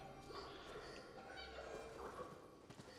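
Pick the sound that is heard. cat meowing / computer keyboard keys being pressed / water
cat meowing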